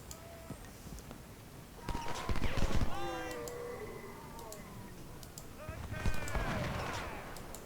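Musket and artillery fire rumbles during a Civil War battle at Salem Church in Ultimate General: Civil War, with distant booms and crackling volleys in two bursts, alongside shrill whistling tones and a steady low background.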